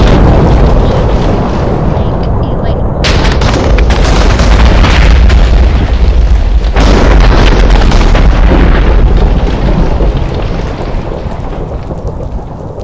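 Lightning strike called down by a thrown snowball in a Minecraft-style video game: heavy rolling thunder with a sharp crack and booming rumble plus rain-like hiss, loud and continuous, easing slightly toward the end.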